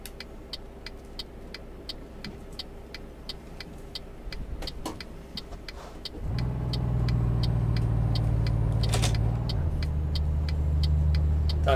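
Truck engine in Euro Truck Simulator 2 idles low at first, then swells into a loud, steady drone after a gear change, holding a continuous mid-pitched hum with a brief shift partway through.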